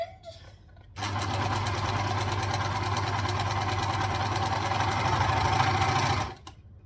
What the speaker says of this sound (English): so I'm overlocking that edge